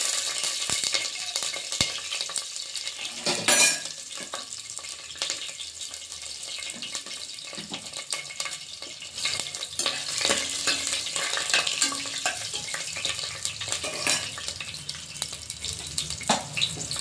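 Onions and green chillies fry in a pan for a spicy mutton curry, a steady crackling sizzle broken by occasional spoon scrapes and stirs, heard up close with no talking.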